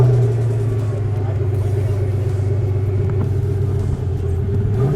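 A Pagani Huayra's AMG engine idles close by with a deep, steady rumble, low and continuous, with a slight lift in pitch near the end, at a supercar meet.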